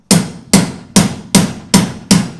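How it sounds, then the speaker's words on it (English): Six sharp, evenly spaced hammer taps ring out close and loud as valve guides are driven out of Ferrari 456 cylinder heads in a garage, each strike decaying quickly before the next. "Light taps. I'm only holding the hammer up here."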